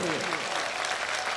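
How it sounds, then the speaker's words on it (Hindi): A crowd at a religious discourse gathering claps together in a dense, sustained burst of applause, loud and close for a short stretch. "एक बार जोरदार ताली बजनी चाहिए हमारे अनुज के लिए,"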